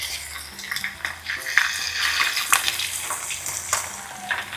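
Fish dropped into hot frying oil in a home kitchen, crackling and sizzling up close with bursts of spattering and a few clinks, loud and continuous, with no talking.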